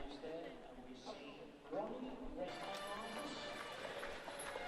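Several horses' hooves clip-clopping on a London street as they pull a stagecoach, a steady moderate rhythm under the murmur of nearby voices and city bustle.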